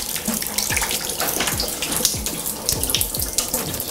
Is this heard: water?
yes